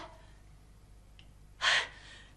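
A single sharp, breathy inhalation or exhalation comes up close and fairly loud near the end, following a quiet stretch with a faint earlier breath.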